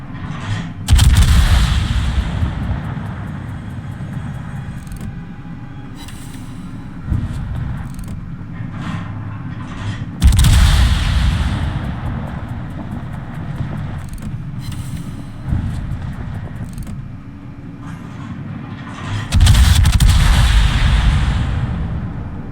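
Tier 10 Commonwealth battleship firing main gun salvos in World of Warships, three heavy booming blasts spaced roughly nine seconds apart, each rolling off into a long rumble with engine noise and lighter gunfire between, loud and close.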